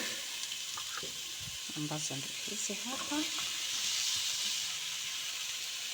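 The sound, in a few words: bell peppers and onions frying in a pan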